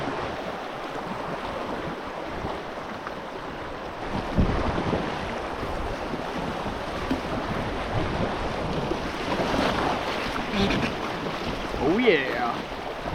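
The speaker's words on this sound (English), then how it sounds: "There's a little waterfall." A small mountain waterfall rushes as broadband, steady water noise heard from a packraft in the Alberta mountains, mixed with wind buffeting the microphone and a few faint thumps.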